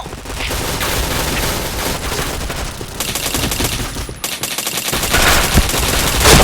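Rapid, loud bursts of automatic gunfire and shots from the video game Point Blank hammer on continuously, with brief pauses and a heavier burst near the end.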